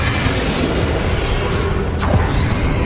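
Confringo and Bombarda spell blasts burst in Hogwarts Legacy, with booming explosions and whooshing bursts near the middle over constant loud combat rumble.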